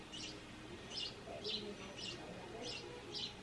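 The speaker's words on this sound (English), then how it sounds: "And those birds are stuck in the vent." Birds chirp in short repeated bursts, about six high tweets spaced evenly, muffled from being stuck inside a vent, over a low steady background hum.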